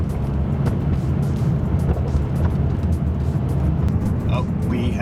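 A Lamborghini with a V10 engine and gated manual gearbox drives on snow without snow tires, its engine and road noise a steady loud cabin drone throughout, with a voice talking over it.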